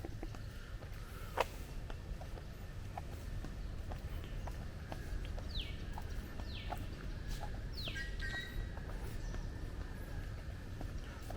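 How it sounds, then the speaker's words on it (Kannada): Morning birds calling around a hill resort in Sakleshpura, a few faint chirps and sweeping whistles over a low outdoor hum, with scattered soft knocks and ticks nearby and no voices. "ಪಕ್ಷಿಗಳ ಸೌಂಡ್ ಕೇಳೋಕ್ಕೆ ಖುಷಿಯಾಗುತ್ತೆ."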